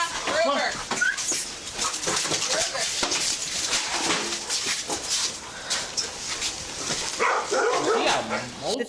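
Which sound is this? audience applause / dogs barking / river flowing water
dogs barking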